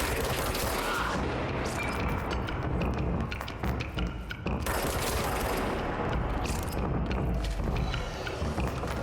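Rapid sniper fire and other gunfire from Control crackle loudly and densely throughout, with sharp overlapping shots and bursts and no speech.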